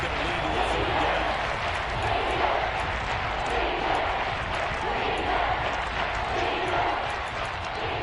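Stadium crowd noise from the Kansas City crowd in a football video game, a dense, continuous roar of cheering that stays loud and steady throughout, with commentary voices mixed in.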